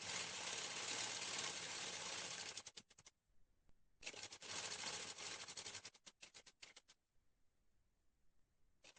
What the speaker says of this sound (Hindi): अब जो निशान हमने लगाया है उस निशान के ऊपर हम अपना सिलाई लगा लेंगे।